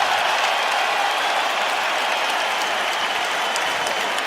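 A basketball arena crowd during an NBA Game 5 roars and applauds in a dense, steady wash of cheering and clapping that keeps a constant level throughout.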